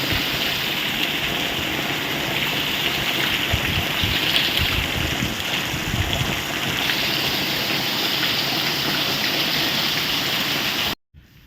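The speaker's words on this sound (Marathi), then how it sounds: "आला पाऊस" Steady, heavy rain falls around a village house in Mahad during the monsoon, a dense, even roar that holds for about eleven seconds before cutting off abruptly.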